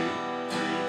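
Guitar chord ringing, then one bright strum in a beginner pattern with an eighth note on the and of 3; short, close and unaccompanied.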